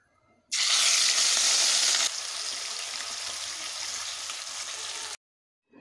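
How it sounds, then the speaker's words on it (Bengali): Rohu fish pieces drop into hot oil with a sudden loud sizzle that starts abruptly, eases after a couple of seconds into a steady hissing fry, then cuts off, with no talking. "এবার একে একে মাছগুলোকে ভেজে নেব।"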